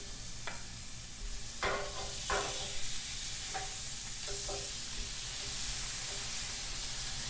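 Peeled, deveined shrimp sizzle in a cast iron skillet, a steady close hiss overlaid by a few clanking scrapes and knocks of a utensil against the iron, with no one speaking.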